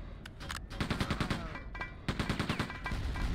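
Automatic machine gun fire in the video game Quake II, rapid repeated bursts of shots in a steady stuttering rhythm, loud and close, with a short pause before the firing resumes.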